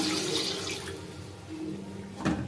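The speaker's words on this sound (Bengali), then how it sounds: "দিয়ে দিচ্ছি পানি।" Water splashes and runs steadily into a pot of snakehead fish cooking with spices for a couple of seconds, ending in a brief louder gush, with no voices.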